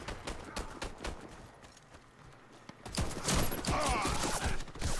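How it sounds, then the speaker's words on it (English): Gunfire from pistols in the online shooter Warface on a farm map, a fast burst of sharp shots and clatter at the start, a quieter stretch, then dense overlapping shooting that stays loud to the end. "The pistols have a really slow rate of fire."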